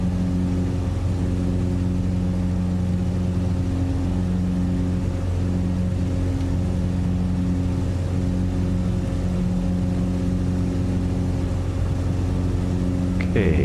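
Steady drone of aircraft engines in a flight simulator game, running continuously at an even pitch with a constant low hum and faint harmonics, close and unchanging throughout, with no voices.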